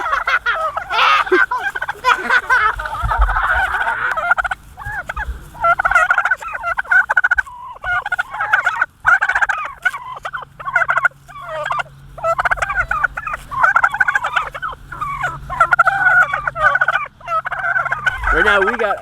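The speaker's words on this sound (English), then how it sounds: "Right now we got a train of turkeys following us." A flock of turkeys gobbling loudly and almost continuously at close range as they follow people across a farm paddock, with brief gaps between the rapid calls.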